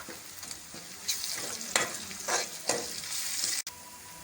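Ginger garlic paste sizzles and fries with onions in a pan, steady frying hiss with stirring scrapes and bursts of crackle throughout, no talk.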